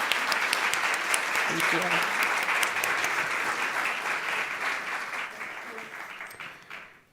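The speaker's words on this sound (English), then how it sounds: "Please give them a round of applause." Sustained applause from a large audience fills the room, steady and dense before slowly tapering off; a voice briefly speaks over it.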